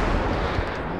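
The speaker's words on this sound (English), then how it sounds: "Let's go to the grenade so you can hear the explosion." A grenade explodes in GTA V with modded weapon sounds: a loud, dense, broadband boom that fills the full second, rumbling heavily in the low end with no talk over it.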